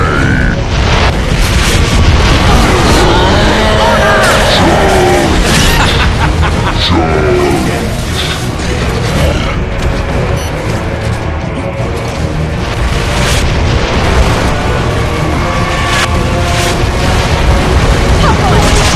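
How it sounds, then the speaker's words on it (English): Mortar blasts and heavy booms crash through a dense, chaotic battle soundscape in the video game Gears of War: Judgment, with rumbling impacts recurring over nearly twenty seconds beneath shouted voices and constant combat noise. "Another mortar!"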